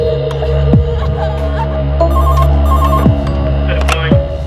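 A telephone rings in repeated electronic bursts over a steady low hum, fairly loud and close, with no talking.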